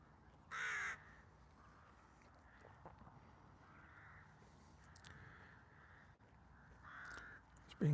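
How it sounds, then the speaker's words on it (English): A crow at Castlerigg stone circle gives a loud, close caw near the start and fainter calls later, over quiet outdoor ambience with footsteps and soft voices in the background. "Being greeted by one of the local crows."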